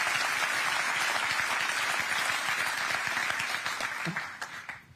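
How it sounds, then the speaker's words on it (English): An audience applauds the Hard Hyperloop team during a live-streamed event, a dense, steady wash of clapping that holds for several seconds before slowly thinning out. "I would also like to raise a very warm round of applause for the whole Hard Hyperloop team."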